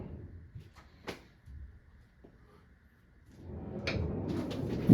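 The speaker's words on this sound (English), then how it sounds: "now this I put as a barn door, just for the fact that I can open and close it" A barn-style sliding door rolls open and shut nearby, with a few sharp knocks and clicks followed by a longer, louder rumbling slide near the end.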